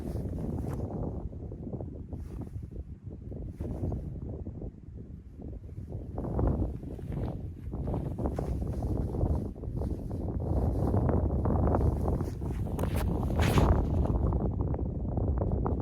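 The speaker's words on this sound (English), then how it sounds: "there's a little bit of wind coming at me" Wind buffets the microphone on a disc golf course at Lake Carl Blackwell, with gusty low rumbling that swells and eases and gets stronger toward the end, and no talking.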